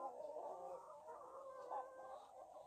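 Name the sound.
Jersey Giant roosters and chickens clucking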